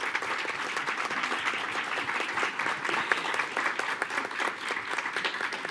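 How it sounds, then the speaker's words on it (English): Audience applause for two students at a school board meeting, a sustained, even round of clapping from a moderate crowd in a meeting room, heard alone without talk. "Let's give them another round of applause."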